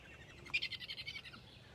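A great horned owl gives a faint, rapid chittering call, a quick series of high pulsed chirps lasting about a second, used as a food-begging sound.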